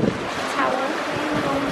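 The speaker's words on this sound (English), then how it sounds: "the wind has really picked up" Strong wind gusts across Paraggi Bay near Portofino, roaring continuously and close into the microphone with waves mixed in.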